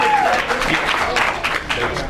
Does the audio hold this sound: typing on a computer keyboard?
no